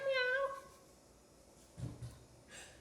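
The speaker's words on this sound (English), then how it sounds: "Sorry, that was my cat." A house cat gives one short, close, harmonic meow at the start, then the room goes quiet apart from a couple of soft low bumps.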